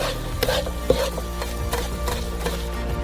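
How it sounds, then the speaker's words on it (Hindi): Onions stir and scrape in hot oil in a frying pan on a stove, with a steady low sizzle and repeated soft wooden knocks and rubs against the pan. "और प्याज भूनेंगे"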